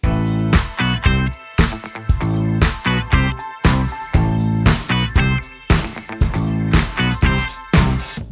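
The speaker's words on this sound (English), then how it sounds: "I added room mic samples to existing recorded or programmed drums" A full drum groove with punchy kicks and snares, backed by dense sustained tones; added room mic samples give the hits a roomy, spacious ambience, repeating steadily throughout.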